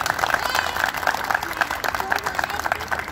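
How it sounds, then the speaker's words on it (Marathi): Adults in a crowd at a Chhatrapati Shivaji Maharaj Jayanti lecture clap for the children, giving steady, dense applause that runs the whole time with no pauses. "ह्या लहान मुलांसाठी सर्व मोठ्या माणसांनी टाळ्या वाजवाव्या"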